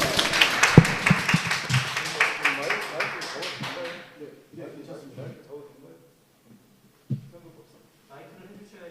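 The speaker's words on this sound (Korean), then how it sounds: "박수 부탁드리겠습니다" A room at a pledge ceremony for Suncheon mayoral election candidates breaks into brisk, dense clapping, which fades after a few seconds to sparse handling noises and a quiet hall.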